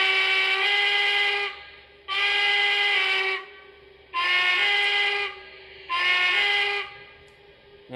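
A steam locomotive whistle blows four times in a regular rhythm, each a loud chord-like blast with brief pauses between.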